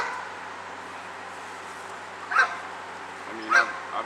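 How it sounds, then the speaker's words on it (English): A large German shepherd gives two short, clipped barks about a second apart, heard at moderate distance over a steady background rumble, with no talk. "It's such a big giant of a dog."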